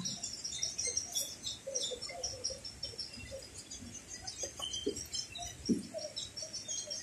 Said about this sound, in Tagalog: may mga ibon na pumapasok sa may loob ng puno na yan